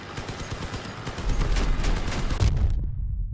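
Cannon shells firing in Crossout vehicle combat, a dense, rumbling barrage of rapid booms that builds and then cuts off abruptly, with no voices over it.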